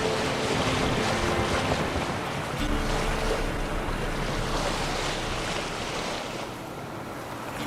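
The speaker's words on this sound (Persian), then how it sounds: "خب باید با قایق بریم انگار همینطوری" A boat moves over open water in The Witcher 3, with steady surf and waves washing against it under wind-like rushing noise, a continuous ambient bed that fades slightly near the end.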